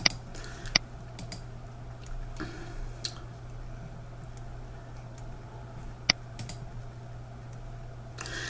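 Sharp, isolated computer mouse clicks ring out a few times over a quiet room hum while the FP Solutions financial planning software is being used.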